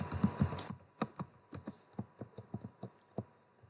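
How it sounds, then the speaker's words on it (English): A computer keyboard typing in a number and pressing enter: after a short murmur at the start, a run of crisp, close keystroke clicks follows at a steady, slightly uneven pace. "Now here I am typing number 30 and I press enter."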